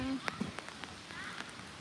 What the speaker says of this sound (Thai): ฝนตกฝนตกจ้าฝนตก